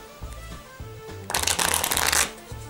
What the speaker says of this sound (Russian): То есть тасуются вообще на ура.